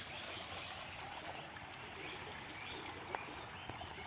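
A small stream at a traditional Konkan fishing spot flows in a steady, soft rushing wash, fairly faint and continuous, with a couple of tiny splashy ticks near the end and no talking.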